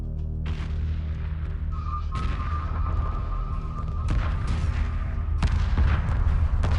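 Starship weapons and explosions from the space strategy game Homeworld: four heavy booming blasts at roughly even intervals, each with a sharp onset, over a constant low engine rumble and a faint whistling tone.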